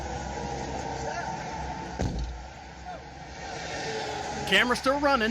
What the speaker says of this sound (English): You can hear the traffic going by.